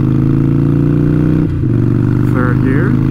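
Motorcycle engine droning loud and close with a strong harmonic hum, briefly dipping at a gear change and then resuming, while a rider talks over it.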